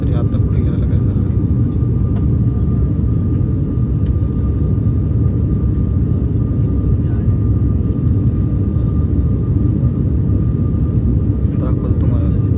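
Inside the cabin of a propeller airplane in flight toward Ozar near Nashik, the engine keeps up a loud, unbroken low drone, with people talking over it.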